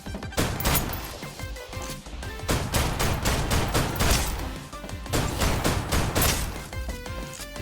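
Dense gunfire fills a battle in the video game Snowbreak, rapid shots and bursts cracking in quick succession, loud and continuous for nearly eight seconds.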